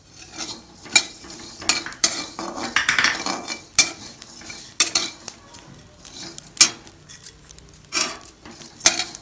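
Whole spices such as cloves being dry roasted in a pan, a busy patter of close metallic scrapes and clinks as a spoon stirs, with irregular sharp clacks throughout and no talking.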